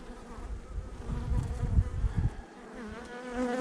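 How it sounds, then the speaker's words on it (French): Many honeybees buzzing on hive frames, a dense, steady hum close by with no talking. "Parce qu'il y a beaucoup d'abeilles, hein, maintenant sur les cadres"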